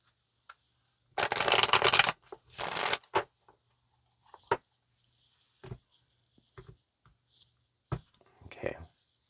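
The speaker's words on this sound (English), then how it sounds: "let's get one more shuffle for Sagittarius" A deck of tarot cards is shuffled up close in a quiet room, a dense riffling burst followed by a second shorter one, then scattered light taps and card clicks.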